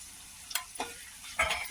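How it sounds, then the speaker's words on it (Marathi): Tomatoes sauté in a pan for methi pulao, with a low sizzle and a few brief stirring scrapes. The sound is quiet and close. "टमाटा परतून घेऊ"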